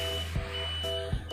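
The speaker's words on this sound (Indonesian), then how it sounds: "Di sini ada alarm bunyi buzzer" A steady electronic alarm buzzer on a 2500 VA, 24 V automatic solar power panel drones continuously with a low hum, punctuated by two brief clicks, with no talking.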